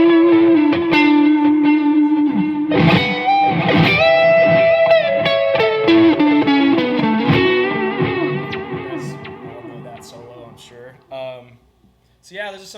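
An electric guitar, a Doubleday Starling played on its neck pickup with a boost, delay and reverb, sounds sustained, bending lead notes up close and loud, with echoing repeats fading out toward the end.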